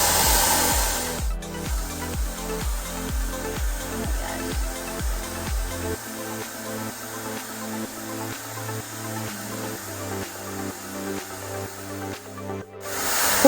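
An L'BRISE Airstyler hot air hair styler blows steadily at close range, a loud continuous airy whoosh with a motor hum that drops in pitch partway through as the setting changes, with no voices.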